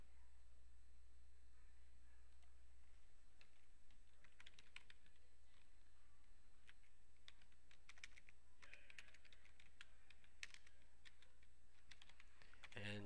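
Computer keyboard typing in quiet irregular bursts of key clicks with short pauses, close and fairly faint over a low steady hum.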